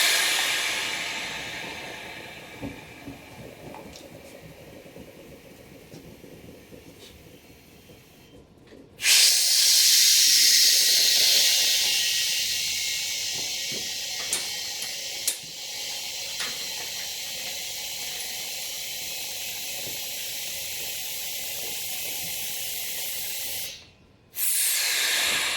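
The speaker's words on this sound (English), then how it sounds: "So I'm going to lead off the vacuum." Air hisses loudly and steadily as the vacuum is released from a veneer membrane press holding a walnut tabletop, starting abruptly after a quieter stretch and tapering slightly before cutting off.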